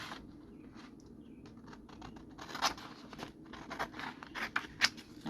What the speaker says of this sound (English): I'm just going to cut it where I can kind of see my little lines going down